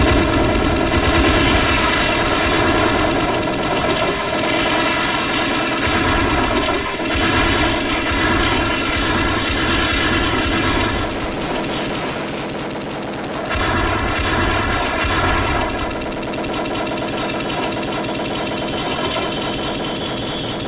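Gunfire from a light-gun shooter video game with pre-rendered backgrounds: loud, continuous rapid bursts of game shots over a steady droning background. The firing runs for about twenty seconds, with brief dips in intensity, and no one talks.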